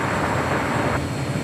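An American Airlines jet taking off from runway 25 right at LAX produces a loud, steady, broadband engine roar that fills the whole stretch without a break.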